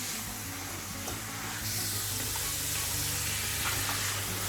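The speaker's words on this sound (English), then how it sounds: "now masala is fried nicely with the meat" Meat frying in Sindhi masala for biryani sizzles steadily and close up, with a brief clatter of stirring partway through and the hiss growing a little louder after the first couple of seconds.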